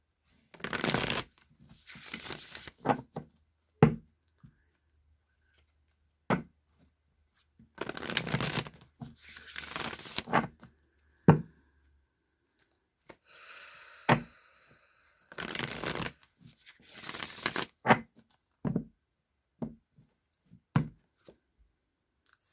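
Tarot cards riffled and shuffled in several close, brisk bursts of papery fluttering and slapping, separated by short pauses and a few single taps, with no talking.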